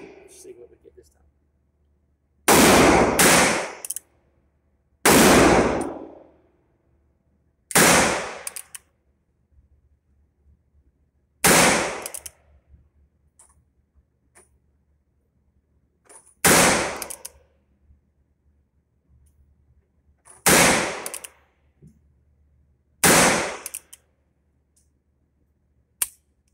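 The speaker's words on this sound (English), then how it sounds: "Okay, so we're ready to shoot." An RG model 66 six-shot cowboy revolver fires single very loud, sharp reports roughly every two to three seconds, eight blasts in all, each ringing briefly before near silence.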